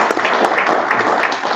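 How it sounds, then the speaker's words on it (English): Applause at a school board meeting fills the room, a steady dense wash of many hands clapping throughout with no pauses, loud and close. "round of applause."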